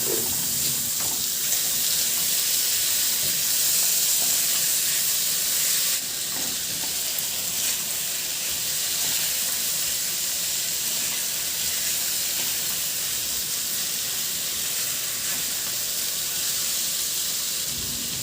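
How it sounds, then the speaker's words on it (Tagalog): Onions and tomatoes sauté in a pan for a Filipino ginisang monggo, giving a steady, loud hiss and sizzle that runs alone throughout, easing slightly partway through. "Ilagay ko na rin yung sibuyas. Isunod ko na rin ilagay yung kamatis."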